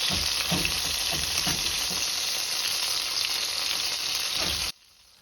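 Potsticker dumplings fry in a pan as they are turned, a loud close continuous sizzle with faint scraping and stirring, cutting off abruptly near the end; no voices.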